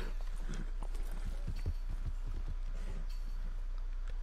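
Hooves clop in a quick, uneven run from a horse in the video game Red Dead Redemption 2, moderately close over a steady low game hum, with no talk.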